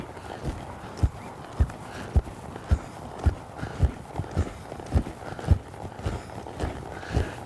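A horse loping across an arena during flying lead change work, with hoofbeats landing in a steady rhythm, fairly close and distinct against quiet surroundings.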